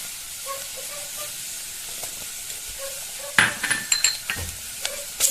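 Chicken curry masala with wheat flour, coriander and black chilli powder is stirred in a frying pan. A steady low sizzle runs underneath, then a spoon scrapes and clatters against the pan in several close, loud strokes near the end.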